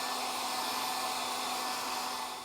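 A hair dryer blows steadily and loudly up close, a constant broadband whoosh with a faint motor hum, drying freshly coated platinum print paper; no voices.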